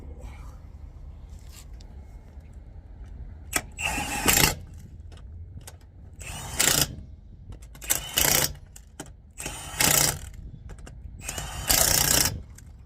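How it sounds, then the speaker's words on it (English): An impact wrench tightens wheel lug nuts on a Ram ProMaster van, with several loud rattling bursts of about half a second each, separated by pauses filled with low background noise and small handling clicks. "you want to tighten them in a cross pattern"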